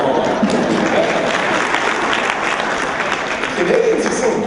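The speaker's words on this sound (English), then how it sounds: "I'm sure I'm the only one here to clap for Oklahoma." Audience applause from a crowd in a hall, a steady, dense wash of clapping that stays loud and even from start to end, with a voice speaking over part of it.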